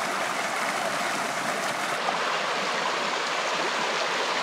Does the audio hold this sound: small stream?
yes